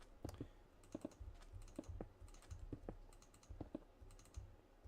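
Mouse clicks during Minecraft play, a quick run of faint, sharp clicks in uneven bursts over a steady low background hum.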